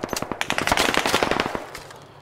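Machine gun fire in the tactical shooter game Squad: a loud, rapid burst of closely spaced shots over about a second and a half, then tailing off into a fading echo.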